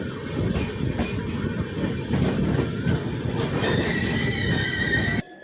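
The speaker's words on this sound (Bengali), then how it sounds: "এই মুহূর্তে আমাদের ট্রেন ছাড়লো মালদা টাউন স্টেশন থেকে।" A passenger train pulling out of Malda Town station, its steady rumble and rhythmic wheel clatter close and continuous, with a faint high squeal of wheels near the end before the sound cuts off.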